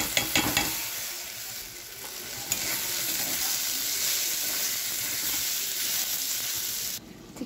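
Crab frying with spices in a pan, a loud continuous sizzle with scraping stirs at the start, steady and close, the hiss cutting off abruptly near the end.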